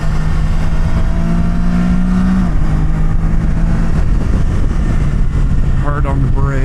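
An engine drones under heavy braking on a twisty road in freezing weather, holding a steady tone before a quick burst of revving blips during a downshift near the end, with someone talking over it.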